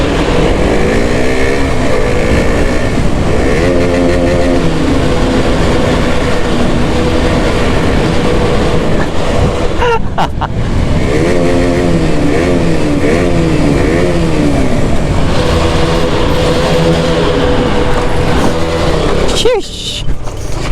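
A motorcycle engine revs loudly and repeatedly inside a tunnel, its pitch rising and falling and echoing, while people talk over the roar.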